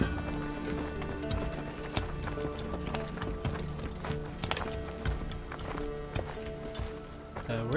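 Horse hooves clip-clop in a steady galloping rhythm over a dense wash of music and ambient noise, loud and continuous throughout.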